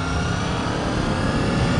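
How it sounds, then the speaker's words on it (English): Honda VFR800 motorcycle V engine running, a steady, loud, low throbbing drone with a smooth rumble and no voices, heard close for a couple of seconds. "it really has this sweet engine note to it"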